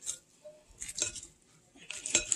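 Coleslaw of cabbage and carrots being mixed with sauce in a bowl, with scraping, clinking utensil strokes in a few short bursts, close and moderately quiet.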